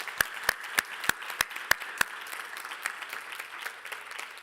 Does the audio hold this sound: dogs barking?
no